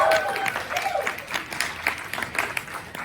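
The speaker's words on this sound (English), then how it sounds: "Let's applause it." An audience at a talk claps briefly, a moderate burst of applause with a few loud individual claps, fading over about three seconds.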